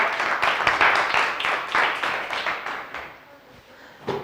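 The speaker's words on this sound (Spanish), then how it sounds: "un fuerte aplauso al doctor" An audience gives a lecturer on seismic anisotropy and Mexican tectonics a round of applause; dense clapping rises, then thins and fades over a few seconds, ending with a single late clap.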